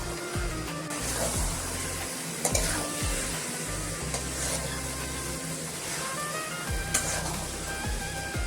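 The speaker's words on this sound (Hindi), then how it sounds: "अभी मैं अच्छे से मिक्स करेंगे और 5 मिनट्स में फ्राई करेंगे।" Romaine lettuce sabji is mixed and fried in a pan, giving a constant hissing sizzle with occasional sharp scrapes and knocks of the spoon, under low droning background tones.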